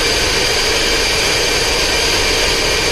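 Large exhaust fans at a bitcoin mining farm run as a steady, loud, broadband roar with a low rumble, continuous and unchanging throughout, no voices.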